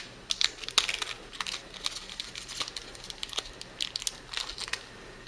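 A plastic bag crinkles and rustles as Williams front sight parts for a Remington 572 Fieldmaster rifle are pulled out, close and quiet, in short irregular bursts.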